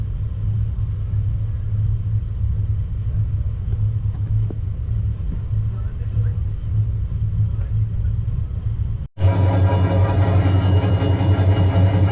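The Chitra Express pulls into Joydebpur station with a steady low rumble of rolling carriages and wheels on rail. A brief dropout comes near the end, followed by louder, brighter train noise.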